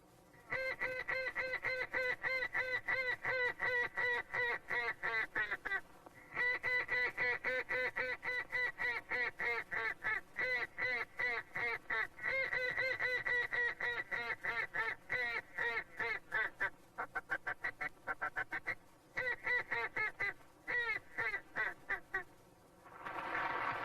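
A retired champion duck caller imitates ducks with a handheld call, producing long runs of rapid, loud, nasal quacks in steady rhythmic bursts with short pauses between sequences.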